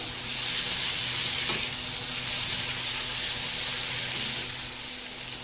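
Ginger paste fries in a pan of oil, a steady, fairly loud hiss and sizzle that holds evenly throughout with no voices.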